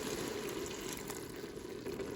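Water poured into cooked ground beef with taco seasoning in a Ninja Foodi grill, a steady close hissing, sizzling splash lasting a couple of seconds, no talk.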